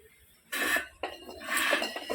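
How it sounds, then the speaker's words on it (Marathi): A metal kadhai is set down on a wood-fired clay chulha, with a few short clinking and scraping knocks of metal on the stove in quick succession, close by. "ठेवू का आता कढई?"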